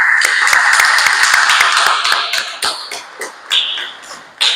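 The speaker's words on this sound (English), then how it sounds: "I direct that we clap for our guest speaker" Senators clap for a guest speaker at a youth senate sitting, a dense burst of hand claps that thins into scattered, fading claps and a few final taps.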